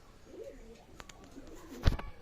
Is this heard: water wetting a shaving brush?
no